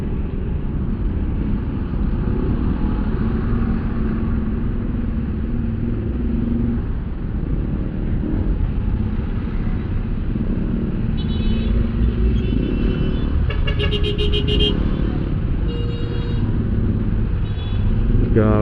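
Morning traffic rumbles near Eastwood where asphalt work is under way, a steady low drone of engines with brief high horn-like tones partway through.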